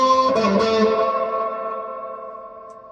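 Electric guitar through Alameda Off Kiltertron pickups for a Jazzmaster, set to a Gibson humbucker-like voicing with a Crush effect and Fender reverb: one loud distorted chord struck and left ringing, slowly decaying over about three seconds, with no voices.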